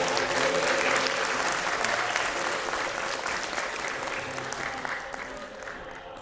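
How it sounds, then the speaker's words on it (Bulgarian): An audience applauds an award-winning primary school, Aleko Konstantinov in Dimitrovgrad, at a Bulgarian heritage contest ceremony. Sustained, dense clapping fills the hall and slowly tapers toward the end, with no voices over it. "Аплодисменти за институцията с най-висок рейтинг, основно училище Алеко Константинов."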